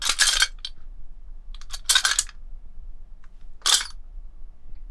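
Several short metallic clanks and rattles from an old car jack mechanism, in separate bursts with quiet gaps between them.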